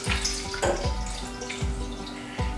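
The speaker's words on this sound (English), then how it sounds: "Now we're going to add water." Water is poured into a pan of browned garlic, a steady pouring and splashing with a few gurgling bursts, close and moderately loud.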